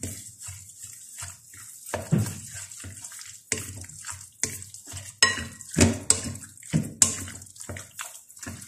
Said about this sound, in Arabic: وهنا نخلط كله،